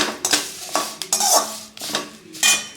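Curry leaves fried in a pan are stirred with a utensil, giving several loud, close scraping and clattering strokes against the metal over a faint crackle.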